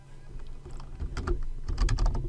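Quiet, close keystrokes tap on a computer keyboard in a short flurry, the clicks growing a little denser and louder toward the end, with no talking.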